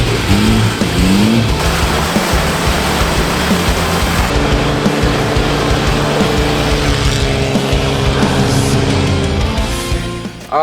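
A 1996 Nissan GQ Patrol 4x4 with about 500,000 km on it runs loudly up close, its engine revving and droning steadily with shifting pitch throughout.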